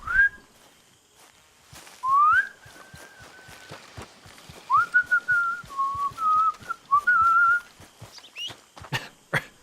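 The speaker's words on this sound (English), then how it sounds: "Arthur starts whistling that to himself anytime they win a shootout." Arthur Morgan in Red Dead Redemption II whistles a lilting tune in short, clear phrases, with a horse's hooves clip-clopping steadily underneath.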